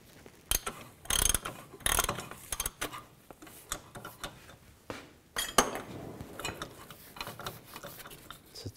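Close ratchet wrench clicks in uneven bursts, with metallic knocks and clatter between them, loosening the inner tie rod on a 2004-2008 Nissan Maxima. No one speaks.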